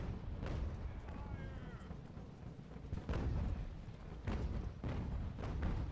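Ship cannons in the naval game Ultimate Admiral: Age of Sail fire several heavy, muffled booms at irregular intervals over a low rumbling background.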